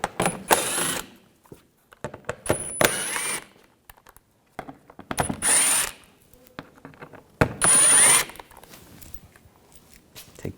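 Hand ratchet fitted with a T25 socket removing screws on a 2011-2018 Volkswagen Jetta TDI wagon, several short bursts of rapid clicking separated by pauses, close and fairly quiet.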